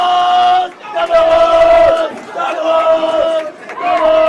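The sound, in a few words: boys' bowling team cheering loudly for girls' team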